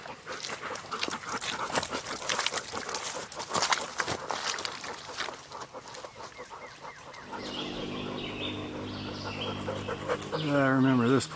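An old dog pants on a forest hiking trail, quick rhythmic breaths close to the mic amid footsteps and rustling, with a few birds calling later.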